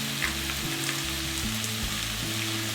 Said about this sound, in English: Keep the flame high while the tomatoes are frying